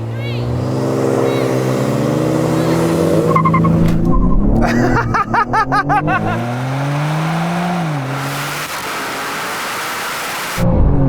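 A Manhart BMW M3 launches in a drag race against a Manhart BMW M2: a loud engine roars and revs up through rising gear pulls with tire squeal and rumbling, close and dominant, with a brief burst of stuttering bangs midway.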